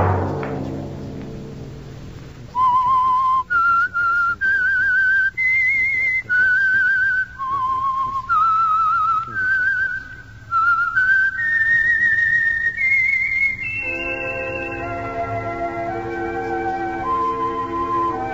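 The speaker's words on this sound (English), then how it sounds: "Let that whistle be your signal for the Whistler" A single whistler carries a clear, eerie melody note by note, rising and falling, then fades under a sustained orchestral chord.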